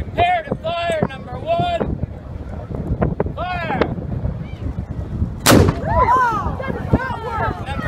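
A historic artillery gun fires a single sharp blast at a Privateer Days event in Liverpool, Nova Scotia, amid outdoor crowd chatter and wind, with people talking before and after the shot.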